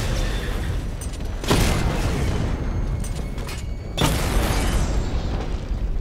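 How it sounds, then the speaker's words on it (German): Tanks being destroyed in Batman: Arkham Knight burst into two heavy booming explosions a few seconds apart, each rising sharply out of a dense, loud wash of constant game noise. "Oh Gott, er hat die Panzer zerstört."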